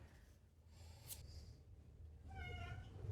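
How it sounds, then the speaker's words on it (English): A cat meows softly nearby, a short plaintive call followed by a longer wavering meow, quiet with little else around. "Oh dear, the cat's joined us as well."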